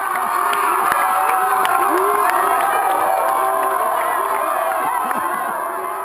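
A crowd in the Democratic Republic of the Congo cheers for the winner of a kabobo wrestling match, a loud continuous outdoor roar of shouting voices with excited calls rising out of the mass.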